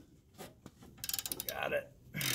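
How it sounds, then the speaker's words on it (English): Ratcheting clicks of a 14 mm wrench loosening a lawn mower blade bolt, with the blade braced against a block of wood; a run of quick close metallic clicks followed by a scrape and a louder rasp at the end. "I'm gonna torque this off with a 14 millimeter wrench"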